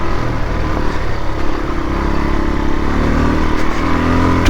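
A Suzuki DR-Z 400 dual-sport motorcycle ridden solo on a mountain trail in the Hautes-Alpes, its single-cylinder engine droning loud and steady close by, with light rattles and rumble from the rough ground and no talk.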